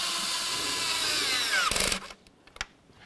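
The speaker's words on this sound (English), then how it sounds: "once you have all of your bolts started, the next thing we need to do is start snugging them up" A power tool whirs steadily while snugging up bolts on a 2006-12 Ford Fusion engine, then cuts off into a few short bursts and light clatter, close and loud.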